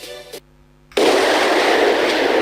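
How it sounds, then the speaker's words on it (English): A loud explosion in the visual novel game Shuffle! bursts in after a short hush, then settles into a sustained roaring rush like a blast of wind that fills the rest of the moment. "It was followed by the sound of an explosion and a strong wind."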